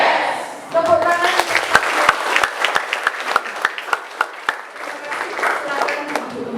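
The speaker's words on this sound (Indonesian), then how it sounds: "Tepuk tangan." Applause from a group of schoolchildren at a school legal-awareness event, with sharp, uneven individual claps rising over a crowd of young voices calling out before settling.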